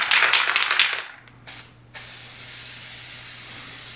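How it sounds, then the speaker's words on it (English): A spray can lays a light coat of frosted glass finish onto the inside of a Mardi Gras streetlamp, one close hissing burst that fades, then a short puff and a steady faint hiss. "I bought some of this frosted glass finish, and I think I'm just going to spray it on the inside."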